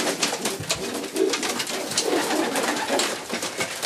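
A racing pigeon coos softly and repeatedly close by, with a busy rustling, fluttering background throughout.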